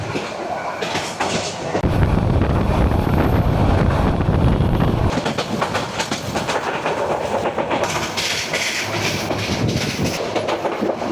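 The Mahanagar Provati train rolls from Dhaka toward Chattogram, a loud continuous rumble with rhythmic clatter of wheels on rail joints and gusting wind across the microphone throughout.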